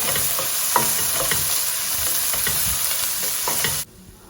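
Harissa paste, ground cumin and Aleppo pepper sizzling in a hot pan with repeated spoon scrapes and clicks over a bright continuous fry, close up, cutting off abruptly near the end.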